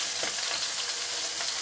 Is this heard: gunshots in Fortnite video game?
no